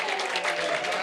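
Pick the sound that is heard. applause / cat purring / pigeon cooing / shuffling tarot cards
applause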